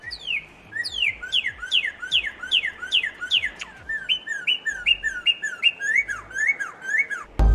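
A northern cardinal sings a loud, close series of clear, down-slurred whistles repeated in a quick steady rhythm, then shifts to a slightly different repeated phrase, with no other sounds over it.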